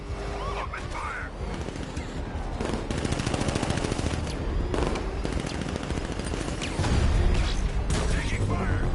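Sustained automatic gunfire from armed militia troops in the video game Batman: Arkham Knight, dense rapid bursts of machine-gun fire layered with scattered shots and impacts, loud and continuous throughout, with a heavier burst near the end.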